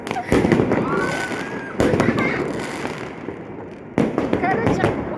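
Fireworks bursting outside around balconies in Kazakhstan, loud crackling explosions coming in three waves with dense popping between, while people speak nearby.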